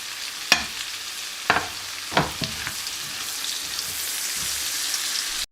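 Ginger and garlic sizzling steadily in a hot pan, with a few sharp clacks of a utensil stirring against the pan and a constant crackling fry close by.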